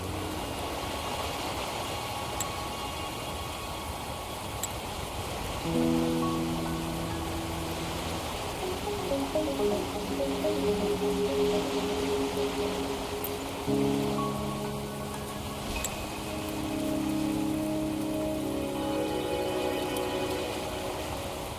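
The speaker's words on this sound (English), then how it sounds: "Don't worry, the rain won't last much longer." Steady rain hiss in the video game Wuthering Waves continues throughout, faint and even, with sustained music tones layered over it and no speech.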